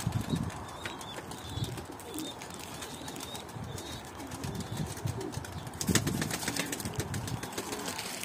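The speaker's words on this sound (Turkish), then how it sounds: "Bakın kuşlarımız da hedefe indi." Pigeons land at a loft, their wings flapping in short bursts with soft cooing and chirps around, a louder flurry of wingbeats near the end, no talking.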